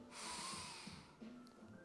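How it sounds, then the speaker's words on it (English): A single strong breath pushed out through the nose during a Pilates side-series mat exercise, close and breathy, fading into quieter room sound afterward. "Exhale."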